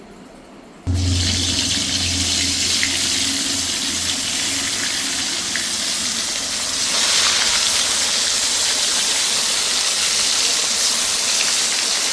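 Mustard oil in a wok for frying hilsa fish comes up with a sudden loud hiss. A steady, broad sizzle follows and grows slightly stronger partway through.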